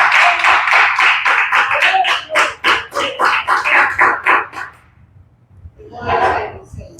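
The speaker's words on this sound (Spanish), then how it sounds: "Vamos a dar un fuerte aplauso al Señor," A church congregation claps steadily in a rapid, continuous burst of many hands, then pauses briefly before a shorter round of clapping follows.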